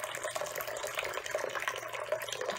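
Liquid is poured off from a container, a continuous soft splashing trickle lasting a few seconds, fairly quiet and close.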